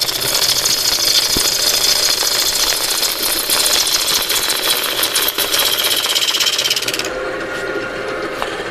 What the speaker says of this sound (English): You probably hear the shavings bounce around the microphone